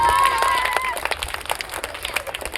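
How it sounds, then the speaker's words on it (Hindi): An audience at an English-medium school's annual day celebration in Sonale, Bhiwandi, claps in a burst that thins to scattered, fading handclaps, with a brief tone at the start. "जोरदार तालियां बजाइए।"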